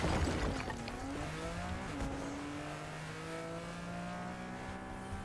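Shelby Cobra car body in Fortnite, a game engine sound revving and accelerating through several gear changes, steady and fairly close, with no talking over it.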